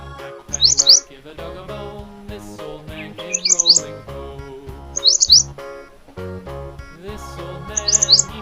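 Bright bulbul chirps in short quick bursts, four times at regular intervals, over a gentle musical tune.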